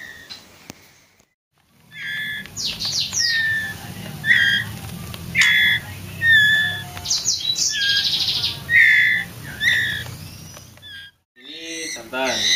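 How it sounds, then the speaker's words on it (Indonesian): Juvenile oriental magpie-robins give a string of high chirps, tweets and whistled calls, close and fairly loud, over a low background hum, with a brief pause before a last burst of calls. "seperti apa ciri-ciri murai yang dari anakan itu, yang jantan dan yang betina"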